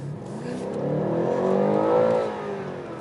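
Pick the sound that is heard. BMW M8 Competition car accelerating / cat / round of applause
BMW M8 Competition car accelerating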